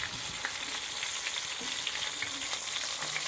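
Mackerel caught off Newport pier frying in hot oil: a steady, close sizzle dotted with sharp little crackles and pops throughout, with no voices.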